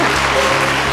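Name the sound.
audience applause welcoming chief guest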